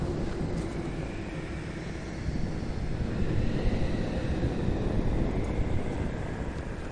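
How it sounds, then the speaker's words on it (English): Steady whooshing video-game wind fills the whole stretch, a broad constant rush that swells slightly in the middle, with no voices. "It's more wind."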